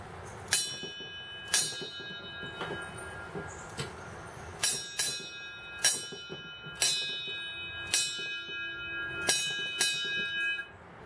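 A brass bell mounted sideways and struck by a homemade electric car bell ringer, ringing in about a dozen sharp clangs at irregular intervals, each leaving a long bright decay, inside a garage.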